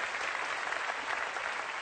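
An audience at Pesantren Zainul Hasan in Genggong claps together during a televised religious gathering, producing a steady, dense wash of applause that fills the whole moment without pause or voices.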